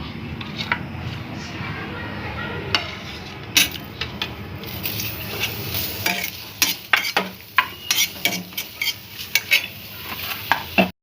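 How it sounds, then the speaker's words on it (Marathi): Onion and masala roasting and being stirred in a pan for stuffed brinjal, steady sizzle under a voice, with sharp spoon scrapes and clinks against the pan growing more frequent toward the end. "आता हे कांदा वगैरे भाजून घेते मी हे सगळं मसाला"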